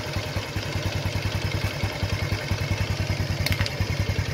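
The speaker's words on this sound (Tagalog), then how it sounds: "So kaya niya magpa-start ng motor." A motorcycle engine runs on a LiFePO4 4S2P battery setup, its steady, close, throbbing idle pulsing evenly throughout with a brief higher clatter partway through.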